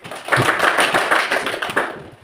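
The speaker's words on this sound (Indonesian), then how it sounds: "Kita tepuk tangan dulu untuk kelompok 1" A classroom of students applauds for the first group, a dense, moderately soft patter of many hands clapping together for about two seconds before fading out.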